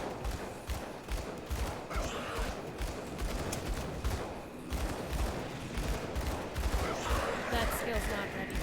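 Gunfire in the action RPG Grim Dawn comes as rapid, repeated shot bursts with thuds and crackles. It runs dense and steady throughout, with game effects layered under it.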